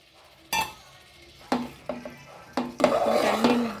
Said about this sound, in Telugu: గుడ్లకి ఈ గ్రేవీ అంతా పట్టేటట్టు ఇలా కలుపుకోండి.